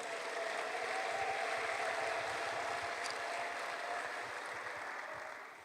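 A church congregation claps for the Lord in a dense, steady wash of many hands that stays loud for several seconds and then tapers off slightly at the end.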